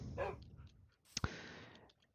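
Dogs barking in the video game Minecraft, a couple of short sharp barks near the start and middle, fairly faint against a quiet background.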